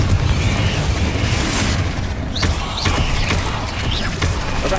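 A Confringo fire spell bursts in Hogwarts Legacy, landing as several short booming blasts inside a thick, steady wash of loud game combat noise.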